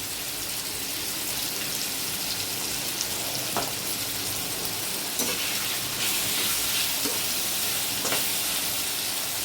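Tomatoes fry in a pan for a cauliflower curry (fulawar bhaji), giving a steady close sizzle with a few sharp stirring clicks scattered through, and no one speaking.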